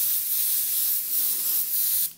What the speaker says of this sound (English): I'm pulling this trigger way back, wide open, and spraying this paint on there really heavy